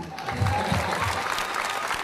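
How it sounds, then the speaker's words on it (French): Audience applause at a comedy evening show, a steady dense wash of many hands clapping throughout, fairly close, with faint voices mixed in. "applaudissez pour lui"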